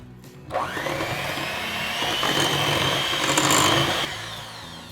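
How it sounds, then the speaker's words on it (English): An electric hand mixer whirs through pumpkin roll batter made with pumpkin, a steady close motor drone that starts abruptly, rises slightly in pitch and cuts off near the end. "That's about it for the mixer."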